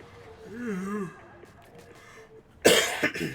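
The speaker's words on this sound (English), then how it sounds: "cough hasn't fully gone away yet" A person who is recovering from a lingering illness lets out a sudden, close cough near the end, with a second smaller hack just after, following a brief voiced murmur.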